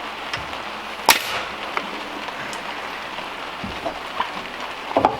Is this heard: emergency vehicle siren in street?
no